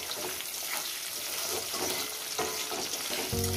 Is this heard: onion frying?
yes